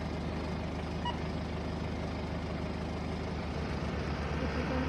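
A vehicle driving in the video game Wobbly Life, with a steady low engine drone and rumble that holds at an even level throughout, moderately loud and without talk.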